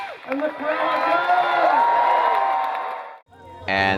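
A crowd at a Renaissance Faire erupts in loud, sustained cheering and whooping for about three seconds, then breaks off into a short pause before a brief burst of other sound.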